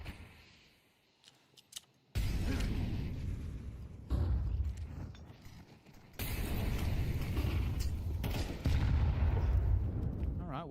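A grenade explosion and gunfire ring out during a Counter-Strike 2 esports match: a few faint clicks, then loud sustained blasts and gunfire in several bursts, each broken off sharply.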